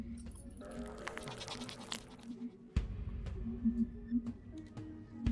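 A goat bleats several times in short calls over a busy, noisy background in the video game Sally Face.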